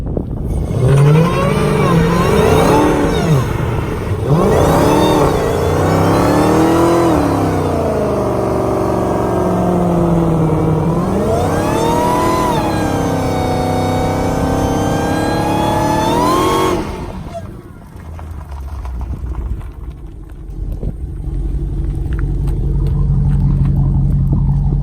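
A Dodge Demon's engine revs hard in snow, repeatedly climbing and falling in loud, close surges with wheelspin. A quieter lull follows, then a deep idle rumble.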